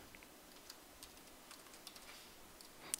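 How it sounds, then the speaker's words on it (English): Light, faint keystrokes tap on a computer keyboard in an irregular run of soft clicks, alone in a quiet room. "all I need to do is just type something"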